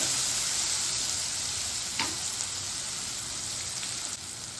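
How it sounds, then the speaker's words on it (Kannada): Bitter gourd and spicy masala stir-fried in a pan give a steady, dense sizzle, with a brief scrape partway through, and no voices. "ಹಾಗಲಕಾಯಿ ಹಾಗೂ ಖಾರದ ಮಸಾಲೆ ಎಲ್ಲ ಮಿಕ್ಸ್ ಆಗ್ತಾ ಇದೆ"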